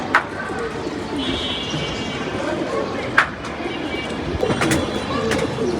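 Pigeons coo close by in soft, repeated calls, joined by a few sharp chirps and clicks, over a constant background hum with faint voices.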